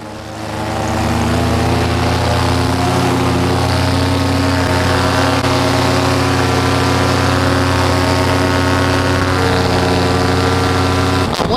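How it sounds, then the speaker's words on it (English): A paramotor engine drones steadily and loudly throughout, a strong even propeller hum with a rich harmonic buzz, held at power while the pilot comes in to land. "I wanted the motor warmed up and ready for power."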